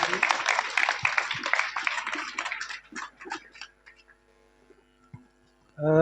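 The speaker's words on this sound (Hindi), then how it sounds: "एक बार जोरदार तालियां बजा दीजिए चाचा जी के लिए" An audience at a school poetry recital claps for an elderly uncle after his poem. The dense, loud applause lasts about three seconds, then thins and fades into scattered claps and quiet.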